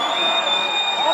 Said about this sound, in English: The crowd willing the home side on.